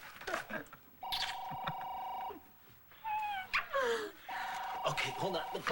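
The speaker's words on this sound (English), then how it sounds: "The phone's ringing." Telephone ringing indoors, two sustained electronic trills separated by a pause, with people talking quietly in between and a warbling tone.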